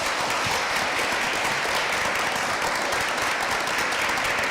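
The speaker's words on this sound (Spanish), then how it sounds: "Pues un aplauso para todos," Sustained, dense applause from a debate audience honoring the participants, a steady wash of many hands clapping at once with no voices standing out.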